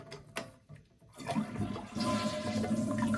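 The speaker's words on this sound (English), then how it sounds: "Actually flush the toilet" A Mansfield toilet flushing, with a few quiet clicks and handling noises before the water rushes in loudly and keeps swirling and draining steadily up close.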